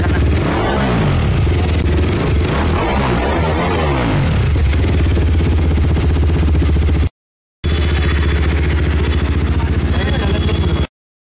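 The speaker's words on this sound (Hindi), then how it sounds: "फाइनली लग चुका है हमारा एग्जॉस्ट। अब इसकी हम आवाज सुनाते हैं।" A motorcycle fitted with a new aftermarket exhaust runs loud and close, with a steady, rumbling engine note, a brief cut near the middle, then more running.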